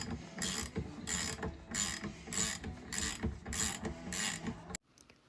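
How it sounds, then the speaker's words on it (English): A 22 millimeter wrench tightens a motorcycle fork top cap during a fork rebuild: a series of about seven rhythmic ratcheting, grinding strokes close by, each roughly half a second long, stopping abruptly near the end. "I'm just going to use the 22 millimeter to tighten her up"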